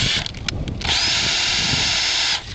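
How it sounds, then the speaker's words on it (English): A cordless drill spins an EZ Creamer corn tool, first in a few short stuttering bursts, then in a loud, sustained high-pitched whine that cuts off abruptly, with no talking. "It's best not to use a cordless drill, but right now that's all I've got"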